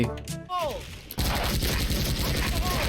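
Rapid UZI gunfire in the video game Special Force (SF) bursts loudly after a brief quieter stretch, continuous automatic shots rattling through the second half.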